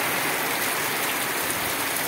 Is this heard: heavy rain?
yes